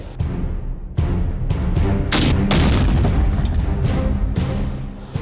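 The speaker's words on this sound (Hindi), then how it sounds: "रॉकेट लॉन्चर फायर किया गया और एक जोरदार धमाका हुआ।" A loud rocket launch followed by heavy booming blasts, several sharp bangs and rumbling roars in quick succession, close and powerful.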